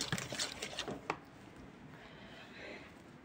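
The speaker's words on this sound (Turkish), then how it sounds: "Kek hamurunun bir tık daha koyusu. Böyle karıştırıyorum." Thick leek batter stirred in a bowl, a few quick clinking, scraping spoon strokes in the first second, then fading to faint soft mixing, quiet and close.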